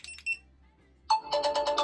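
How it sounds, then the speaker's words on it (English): A phone's alarm tone, triggered remotely by a small Bluetooth tracker gadget, chimes in short bright bursts: a couple of brief beeps, a pause, then a rapid repeating melodic sequence, close and clear. "rings the alarm on your phone."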